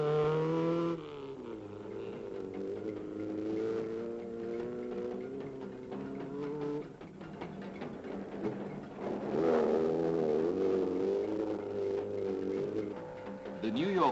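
A rally car, number 25, races the stretch between Kilome and Machakos in the 1969 East African Safari Rally. Its engine drones steadily throughout with shifting pitch and rising revs, recorded with a thin, dated sound.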